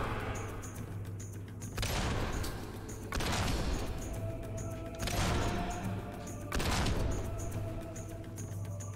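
Bursts of gunfire from the Xbox 360 game Fable 2 come in four separate volleys, each loud and sustained for a second or so, over a steady background of game ambience.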